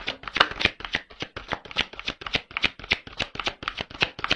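A deck of tarot cards riffled and shuffled by hand in quick, rhythmic bursts of crisp snapping flutters, close and clear, with no one speaking.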